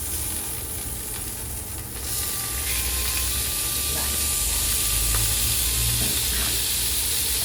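A peppered steak for steak au poivre is turned in a hot pan, and the quiet background hiss swells into a louder, steady close sizzle that holds to the end.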